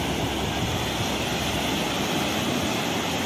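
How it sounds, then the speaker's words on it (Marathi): Sea waves washing on the shore at Tarkarli beach, Sindhudurg, as a steady, dense roar of surf, continuous and fairly loud with no voices. "समुद्राचा आवाज."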